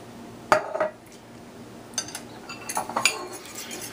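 Milk and horseradish being mixed in a bowl for French toast batter, with a few sharp clinks of a utensil against the bowl and quieter scraping between them, close and fairly faint.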